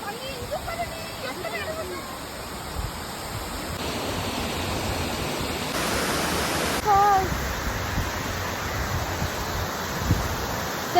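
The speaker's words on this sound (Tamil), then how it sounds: "நம்ம வந்தாச்சு அந்த ஃபால்ஸ்." A waterfall pours in a steady, broad rushing wash at an outdoor nature spot, with voices talking and occasional splashes over the constant roar.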